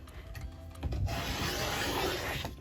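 Blade cutting through stacked quilt layers to trim the edges square, a steady close rasping scrape that starts after a quiet moment and continues evenly to the end.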